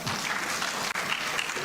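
Audience applause fills a reparations forum, a steady dense wash of many hands clapping throughout, with one brief dip near the middle.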